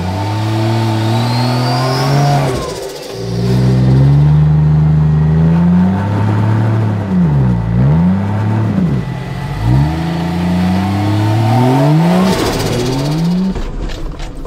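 A 4WD's engine revs hard and climbs in loud, rising and falling bursts as the vehicle crawls up a big rock step off-road. The strong, continuous engine note stays very close, with repeated throttle swells and dips.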